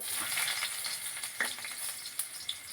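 Chopped onion frying in hot oil in a pan, a steady bright sizzle with a few crackling pops, close and fairly quiet, with no talking.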